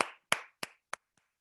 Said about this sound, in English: So guys, a big applause to them.